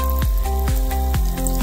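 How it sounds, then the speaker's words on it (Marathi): Modaks, sweet stuffed dumplings, frying in hot oil, giving a steady close sizzle with a few soft bumps as pieces are added one by one, and no talk over it. "इथे तेल तापलेलं आहे, त्यामध्ये मोदक एक एक करून टाकून घेऊ"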